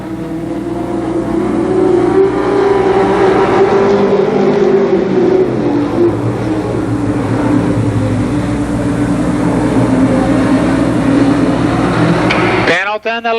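Limited Sportsman race cars roar through an eight-lap heat race at Columbus Motor Speedway, a steady loud engine drone with shifting pitch as the pack circles, and a public-address announcer talks over the racket.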